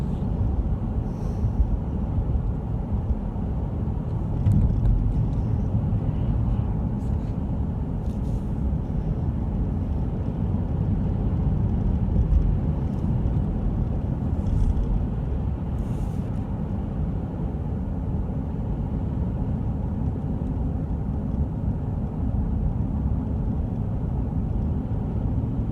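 A Jeep cruises along a road near a lake, a steady low engine and road rumble with interior wind noise, unbroken and fairly loud throughout.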